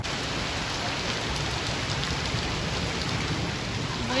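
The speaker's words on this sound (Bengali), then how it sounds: "কিছুতেই থামছে না বৃষ্টিটা" Heavy rain falls steadily on a pandal set up for an event, a dense, unbroken hiss of drops drumming on the canopy with no pauses, close and fairly loud throughout.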